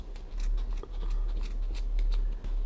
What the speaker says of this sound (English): Now I'm going to grab my scissors and just insert it into the loop, and we'll just cut that loose.